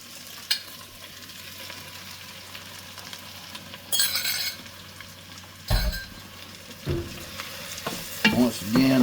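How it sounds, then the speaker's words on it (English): Scrambled eggs fry and stick together with cooked potatoes in a pan, a soft steady sizzle broken by a few scraping stirs and clinks of a utensil against the pan, no talking. "Just gonna dump the eggs in there and let them scramble and stick everything together."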